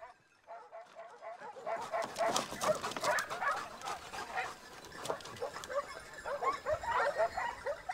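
A pack of hunting dogs barks and yelps excitedly at a wounded wild boar in a continuous, overlapping chorus, loud and close, with high-pitched yips mixed among deeper barks.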